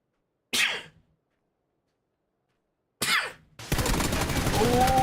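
A person sneezes twice during esports match commentary, two short sharp bursts a few seconds apart in otherwise quiet air. Steady, dense game noise follows right after the second sneeze.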